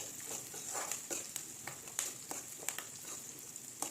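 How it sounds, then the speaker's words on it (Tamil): Crushed garlic and green chillies sautéing in a pan for fish kuzhambu, a soft steady sizzle with faint scattered stirring clicks, quiet and close, no voices. "சேர்த்து இது எல்லாத்தையும் நல்லா வதக்கிக்கோங்க."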